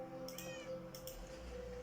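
A cat meows in a Minecraft-style building game, a few short rising mews near the middle, over a steady electronic drone and background game sounds, with no talking.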